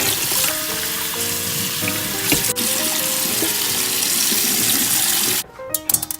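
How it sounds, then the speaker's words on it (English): Cold tap water streams steadily into a sink over sharp pork bones, a constant close rushing for about five seconds before it cuts off, leaving a few brief clinks and drips. "Then I'm just gonna put some cold water."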